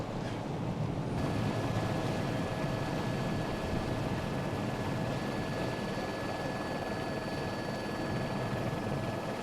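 Helicopter flying low over the start of a sailing race off the Normandy coast, a steady loud rotor and turbine roar with wind and water noise, continuous for the whole stretch with no talk.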